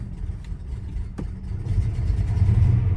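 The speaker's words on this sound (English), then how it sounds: "She's definitely running a little rough." A Buick Grand National parked for 20 years runs rough with a low, uneven engine rumble. It sounds close and steady, and the loudness rises a little toward the end as it revs slightly.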